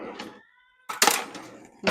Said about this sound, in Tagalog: Mga pusa nag-aaway sa labas.